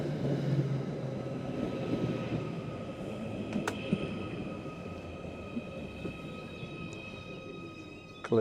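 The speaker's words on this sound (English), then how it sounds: "But here's our train." A train pulling into a station: a low rumbling roll with faint metallic squeals and clanks, steady at moderate distance, with no talking.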